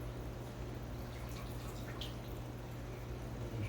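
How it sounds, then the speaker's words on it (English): Water drains steadily from a hose into a bucket during an aquarium water change, a continuous low trickling wash with faint drips throughout, no talking. "Just drain the hose,"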